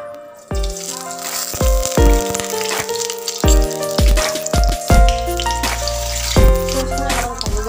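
Panch phoron five-spice seeds go into hot oil in a kadai and crackle and sizzle loudly. Sharp popping rattles and clinks come from the pan throughout, with no voices.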